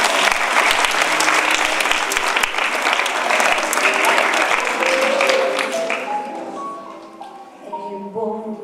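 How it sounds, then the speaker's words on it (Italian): Audience applause at a local commemorative stage event in Casaleone, Italy, steady and full for about six seconds before thinning out as the crowd settles. "Un applauso."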